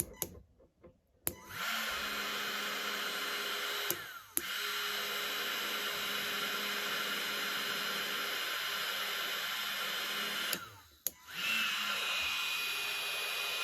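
Ryobi battery-powered heat gun blowing with a steady, close whooshing fan hiss and high whine, switched on twice and cut off briefly between runs.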